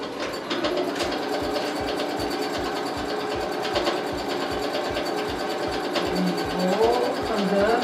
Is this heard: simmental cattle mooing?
no